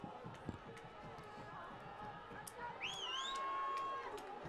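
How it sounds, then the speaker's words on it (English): A crowd cheering in the stands at a high school football game, a broad murmur of voices that swells louder toward the end, with whistles and scattered shouts on top. "As the crowd started to make some noise again."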